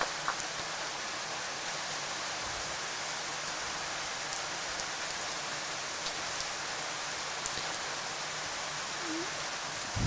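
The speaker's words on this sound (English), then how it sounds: "the rain really pouring down now" Heavy rain pours down on an outdoor croquet lawn in Australia, a steady, dense hiss with scattered drips that holds for the full ten seconds.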